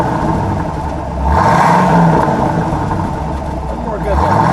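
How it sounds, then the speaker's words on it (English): A 1976 Pontiac Trans Am LE with a 455 V8 and four-speed, a survivor car, idles with a deep rumble, then swells into one strong rev around the middle and settles back, close and loud. "Go ahead, give it a rev."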